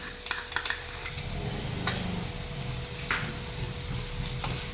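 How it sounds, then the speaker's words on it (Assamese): Ginger-garlic paste drops into a pan of chicken curry with carrot, bringing a soft sizzle and light frying under a few metal utensil clinks and scrapes against the pan, all close and fairly quiet. "তাৰপিছত ইয়াত দি দিম আদা নহৰু"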